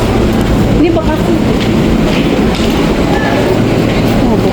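Dense, loud ambience fills Manggarai transit station as a KRL commuter train rumbles and clatters steadily, with crowd noise and voices blending in throughout.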